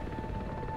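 Helicopter in Far Cry 4, a steady low rotor drone with a fixed mechanical whine, continuous and fairly loud throughout the short stretch.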